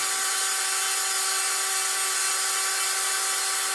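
Dremel with a diamond burr grinding a concave edge into an obsidian slab, a steady high-pitched whine with a gritty grinding layer, close and continuous throughout.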